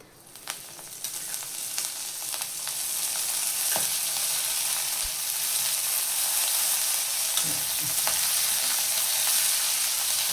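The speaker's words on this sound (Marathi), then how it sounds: "आपण त्याच्यामध्ये आता तेल टाकून घेऊया" Green chillies spotted from dry roasting sizzle steadily in hot oil in a pan, a loud continuous hiss that builds and holds, with occasional stirring knocks underneath.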